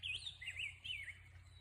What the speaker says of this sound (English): I don't know what that bird is that sings. I thought it was a robin, but I'm not sure.